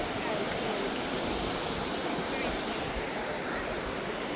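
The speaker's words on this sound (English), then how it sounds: "the waves are becoming more because we have a boat coming" Continuous rushing wash of sea waves off Mallorca, broad and steady, swelling from a passing tourist boat's wake, with wind noise buffeting the microphone throughout.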